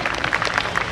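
Brief, dense applause from the audience at an Aam Aadmi Party women's and workers' convention. Many hands clap together, close and fairly loud, over about a second.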